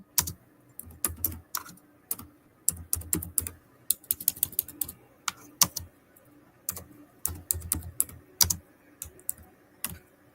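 Someone types on a computer keyboard nearby with fast, irregular key clicks arriving in bursts and short pauses. The clicking is crisp and steady throughout, with no voice.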